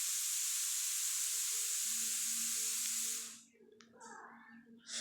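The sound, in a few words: meat and spices sautéing in a pan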